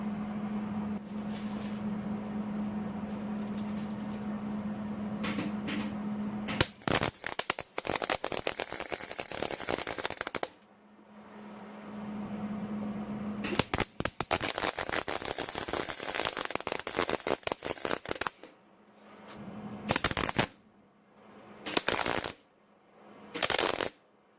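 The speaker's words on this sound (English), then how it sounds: "Let's throw some weld on this and see what happens" MIG-style welding on a BMW subframe in a garage, with long bursts of harsh crackling buzz separated by quiet pauses, then shorter stuttering bursts toward the end, close and fairly loud with no talking.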